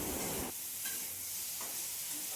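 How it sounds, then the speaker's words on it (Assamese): Ground cumin, turmeric and chili powder fry in a pan for a fish curry with ash gourd, a soft steady hiss and sizzle with a brief stir at the start, faint and close, no speech. "মছলাখিনি ইয়াতে মিহলি হ'বৰ কাৰণে মই ভালদৰে ভাজি আছোঁ"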